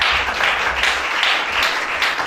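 A church congregation applauds during a worship service, steady broadband clapping that holds loud and continuous throughout, with no clear voice over it.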